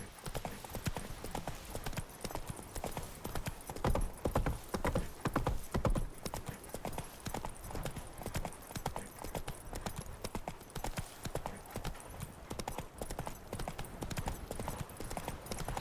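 Roach the horse galloping in The Witcher 3, hooves pounding in a fast continuous rhythm, loud and close, with occasional snorts mixed into the steady drumming.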